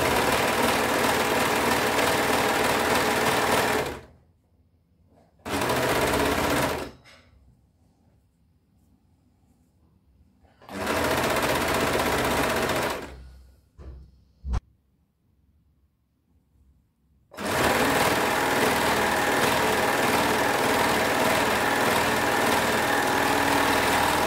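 An electric sewing machine stitches the crotch seam of knit trousers, running in loud, steady whirring bursts that stop abruptly and restart, separated by quiet pauses with a brief click in one gap.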